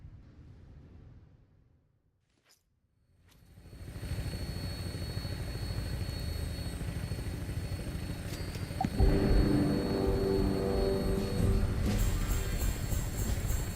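Aircraft in the video game Fallout 76 firing up for takeoff: after a quiet gap, a rumbling engine swells in and settles into a steady, dense roar, getting louder and rougher toward the end.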